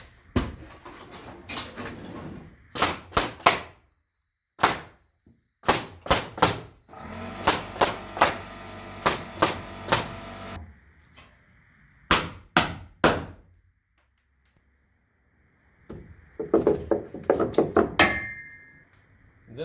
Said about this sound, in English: So now I'll just nail it off.